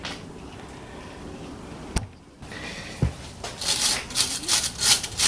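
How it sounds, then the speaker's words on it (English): A wire brush scrapes dust off a brake caliper on a 2012 Mazda5 (Nissan Lafesta) during front brake pad replacement, heard as rapid rasping strokes growing louder near the end after a couple of metallic knocks. "So just using a wire brush here to brush off a little bit of the dust on the sides here."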